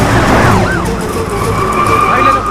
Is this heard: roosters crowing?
no